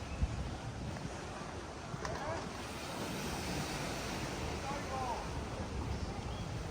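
Beachfront waves and surf at Sierra del Mar Los Arcos in Puerto Vallarta: a continuous broad wash of breaking water mixed with wind noise on the microphone, moderately loud and steady.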